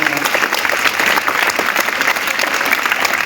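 Loud, steady applause from an audience at a school prize distribution programme, dense clapping sustained throughout without a break.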